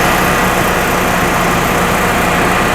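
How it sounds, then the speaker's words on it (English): A Generac air-cooled standby generator engine runs at a steady, loud, close drone with a dense mechanical rattle throughout. "we'll let this engine run for about 5-10 minutes"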